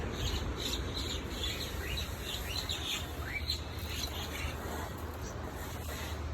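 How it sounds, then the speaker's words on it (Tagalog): Two birds squabbling near an old tree outdoors, with many quick, faint chirps and tweets scattered through a steady hiss of background noise. "Nag-aaway pa yung dalawang ibon."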